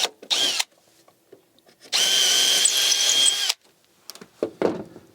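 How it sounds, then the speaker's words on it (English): A power drill bores through pre-drilled holes in the box-steel seat frame for a Ram Promaster van build. One long, loud whine of about a second and a half comes after a short burst, with brief clatter and handling noises around it. "we'll drill right through those holes"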